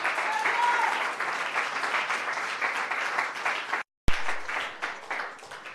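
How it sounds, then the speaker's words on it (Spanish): Congregation applauding the Lord during a church service, a dense, steady wash of clapping for several seconds that cuts off abruptly, then resumes briefly with voices mixed in. "den un aplauso al Señor"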